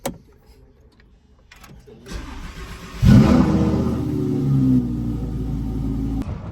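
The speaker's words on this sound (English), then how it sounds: "Here we go, Lamborghini cold start." Lamborghini cold start: clicks and a button press, then the engine cranks and fires with a loud, sudden bark and settles into a high, rumbling idle close by.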